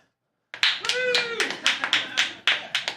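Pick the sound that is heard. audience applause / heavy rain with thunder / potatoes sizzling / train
audience applause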